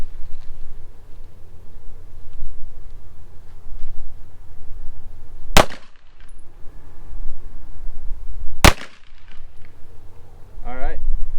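Two sharp pistol shots from a Canik TTI Combat handgun crack out a few seconds apart, loud and close at a shooting range, each followed by a brief echo over steady outdoor background noise.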